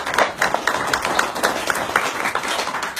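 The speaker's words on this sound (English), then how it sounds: "That applause means something" Audience applause, close and fairly loud, a dense patter of individual hand claps with uneven rhythm, continuing throughout.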